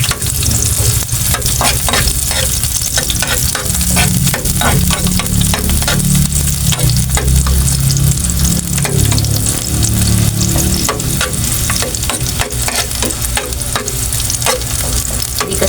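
Garlic and onion fry loudly in a pan, a strong close crackling sizzle with rapid repeated spatula scrapes and clicks running continuously without pause.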